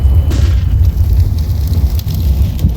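A molotov fire in a shooter video game roars as a loud, steady, low rumble with crackling bursts on top, filling the whole stretch without any talking.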